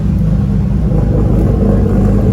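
A turbocharged R34 Skyline engine idles on E85 fuel, running rough with a leaking exhaust flange; a steady, loud low rumble with slight uneven pulsing throughout, no talking.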